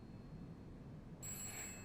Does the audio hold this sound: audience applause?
no